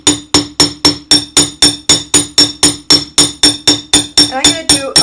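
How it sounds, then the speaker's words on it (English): A hammer repeatedly flattens wire in a steady, even rhythm of about fifteen sharp metallic strikes, close and loud, with the last few blows ringing a little differently and no speech over them. "I'm just going to sit here and hammer that just a little bit."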